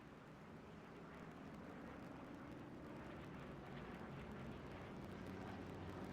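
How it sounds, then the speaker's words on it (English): A steady, distant drone from a recon plane passing overhead in the World War II shooter Hell Let Loose. The engine holds a constant low rumble with no breaks for several seconds. "They have just sent a recon plane over."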